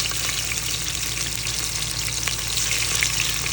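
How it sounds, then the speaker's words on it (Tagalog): Garden vegetables sauté in a hot pan, giving a dense, continuous sizzle and crackle that stays steady and fairly close throughout, with no talking. "Kung magpatunog ng ginigisa."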